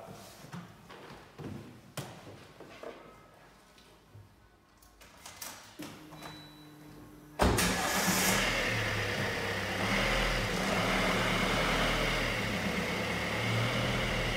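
A Suzuki Vitara 1.6 DDiS diesel starts for a road test, with quiet thumps and handling noise first and then a sudden loud steady engine idle that keeps running up close.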